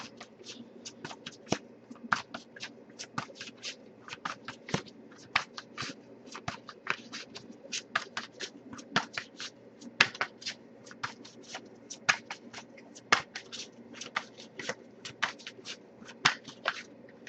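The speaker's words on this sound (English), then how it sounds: "if I shuffle for a while without anything coming up" A tarot deck is shuffled by hand, producing a quiet, continuous run of crisp card slaps and riffles in irregular rapid bursts, close by with no talking.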